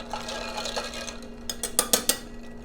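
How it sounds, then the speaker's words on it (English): A spoon stirs a Moscow Mule mixed with fresh lemon juice, giving a few quick metallic clinks and scrapes against the glass toward the end after a quieter start. "And then we'll give it a little stirry stir."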